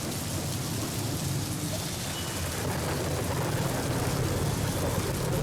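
Heavy rain pours down over Virar city, a loud, steady, dense roar of rainfall hitting surfaces that holds without a break from start to finish.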